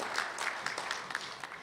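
Brief, faint audience applause at a Treaty 3 awards banquet, scattered claps heard from a distance for under two seconds.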